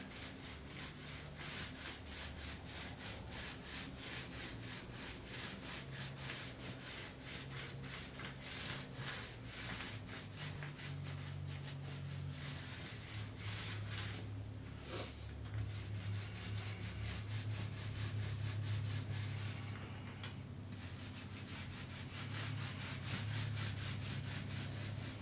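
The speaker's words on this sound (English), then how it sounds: "you did a good job sanding to start." Steady rhythmic scraping of sandpaper by hand on a Soul Calibur arcade cabinet, fast back-and-forth strokes continuing close up with brief pauses, no voices.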